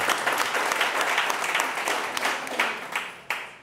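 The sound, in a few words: audience applause for panel speaker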